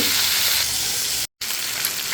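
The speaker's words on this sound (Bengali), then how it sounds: "আমি সবগুলো মাছ দিয়ে দিয়েছি মাছগুলো আমি ভেজে নেব" Pabda fish fry in hot oil with a loud, close, steady sizzle, broken by a brief complete cutout before the hiss resumes.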